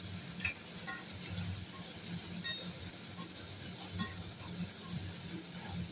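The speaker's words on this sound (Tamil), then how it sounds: "இப்போ நம்ம இதை எடுத்து இந்த எண்ணெயில் போட்டு ஒரு வதக்கி எடுத்துக்க வேண்டியதுதான்" Eggplant stir-frying in oil in a pan, a constant soft sizzle and hiss with faint scraping stirs and light clinks throughout, fairly quiet, with no speech.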